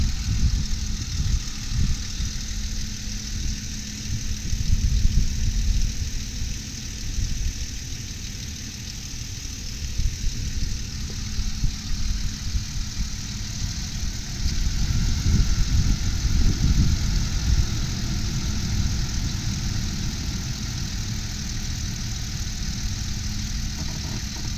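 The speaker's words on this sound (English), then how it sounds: "Running nice and smooth." A 2008 Ford Explorer 4x4 with a 4.0 liter engine idles steadily, a smooth low rumble with mild swells in intensity, heard close and alone throughout.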